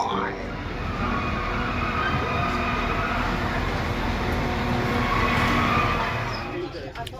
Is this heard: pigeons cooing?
no